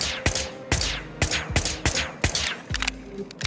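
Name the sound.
gunfire in a video game, Whispers of a Machine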